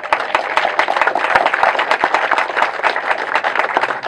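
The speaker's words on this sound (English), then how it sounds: "Now, that's something that's really worthy of applause." Dense applause from a large audience, many hands clapping continuously and fairly loud throughout, with no voices breaking through.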